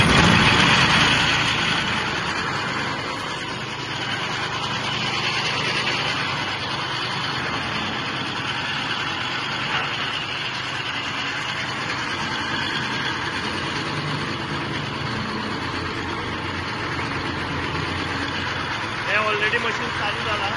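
A murta (reed) cutting machine's engine runs steadily at an even idle-like drone throughout, with people talking nearby over the continuous mechanical noise.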